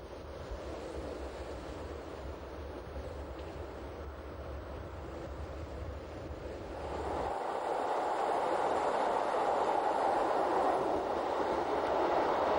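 Rhaetian Railway Glacier Express train running along the joint Albula line section toward Chur, a steady rumbling ride that grows louder and brighter partway through, with no talk.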